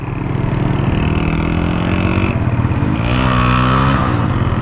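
A modified 1990s Honda XR motorcycle is ridden with a steady, loud engine drone close by that shifts in pitch as it accelerates, with no talking.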